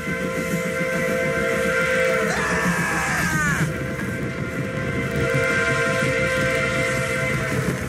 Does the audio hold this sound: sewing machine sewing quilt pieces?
no